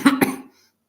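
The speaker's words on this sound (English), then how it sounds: "coughing." A single person coughs twice in quick succession, close and fairly loud, each bout harsh and throaty, then silence follows.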